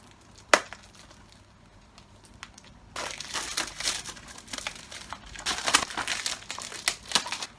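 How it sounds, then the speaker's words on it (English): A slipcover and plastic shrink wrap are pulled off a Scream 2 4K disc case. One sharp snap comes first, then several seconds of close, continuous crinkling and tearing of plastic that rises and falls. No talking. "let's get the slip cover off, and let's get the plastic off."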